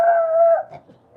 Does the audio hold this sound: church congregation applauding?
no